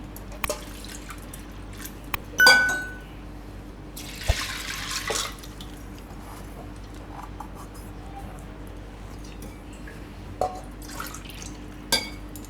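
A short burst of water pours into a pressure cooker holding washed dal, followed by scattered drips and faint clinks in a quiet room.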